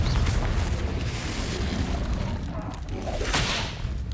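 A Confringo blasting spell goes off in Hogwarts Legacy, a dense, sustained booming rumble with crackling bursts and a whooshing swell near the end, loud and continuous throughout.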